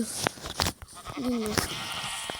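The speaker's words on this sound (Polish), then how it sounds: "Jeszcze jedną muszę znaleźć owce. A robi się noc. No nie, jest owca." Sheep bleating in a video game at nightfall, a single short wavering bleat near the middle amid scattered clicks and faint game noise, with a voice talking softly around it.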